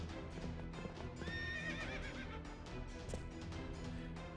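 Horses in the video game Fate/Grand Order gallop in a quick, steady clip-clop of hooves, and one neighs partway through. The sound is faint overall.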